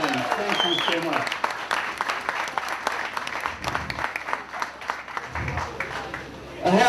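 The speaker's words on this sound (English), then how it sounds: "a nice round of applause for our band" An audience at an outdoor Veterans Day ceremony applauds a middle school band, giving a broad, sustained wash of clapping from many hands. Voices carry faintly underneath, and a louder burst closes the clip.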